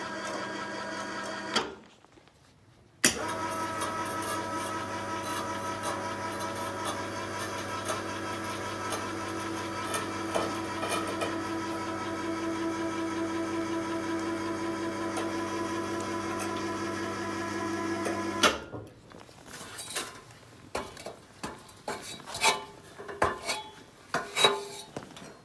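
An electric cable winch runs steadily for about fifteen seconds, whining and clattering as it strains to lift a lid frozen shut. Sharper knocks and rattles follow once it stops.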